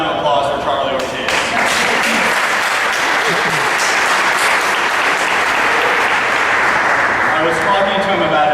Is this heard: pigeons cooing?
no